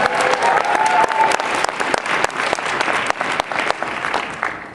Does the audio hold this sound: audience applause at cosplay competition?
yes